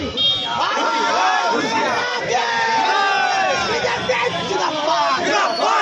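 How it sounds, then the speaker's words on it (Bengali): Crowd of BJP supporters protesting on a blocked road with burning tyres, a loud continuous mass of shouting and chanting voices filling the whole stretch, close and dense with no pauses. "সেখানে গিয়ে রাস্তা অবরোধ করে টায়ার জ্বালিয়ে বিক্ষোভ চলে বিজেপি কর্মী সমর্থকদের"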